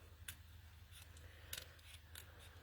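Scissors snipping through card while cutting out a Christmas card design of Santa's sleigh and Rudolph; several short, crisp snips spaced about half a second apart, faint and close, with no talking.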